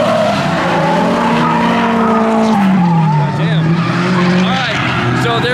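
A BMW E30 drifts on a private track with long, loud, continuous tire squeal over a straining engine, close by, with voices under it.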